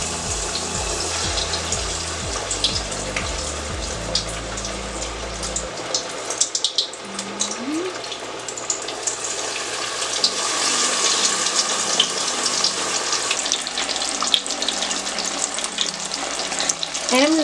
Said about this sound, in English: So I'm just gonna drop it into the grease.